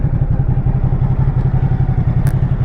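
A 2017 Ducati Supersport motorcycle engine throbs close and loud on a test ride, a fast, even pulsing beat that holds steady throughout.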